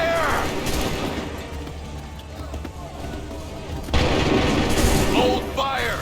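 Soldiers fire a musket volley in Assassin's Creed 3, a dense loud crackle and boom of massed shots that rolls on for seconds, swelling again partway through, with shouted commands mixed in.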